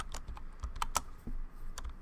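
Quick, irregular keystrokes on a computer keyboard, close and fairly quiet, with a few sharper clicks, while entering an Excel formula; no speech.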